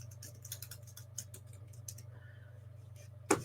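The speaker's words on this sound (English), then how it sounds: "I'm going to type in my chat box" Light keystrokes patter on a computer keyboard as someone types into a livestream chat box, a quick irregular run of soft taps over a low steady hum, ending with one sharper click.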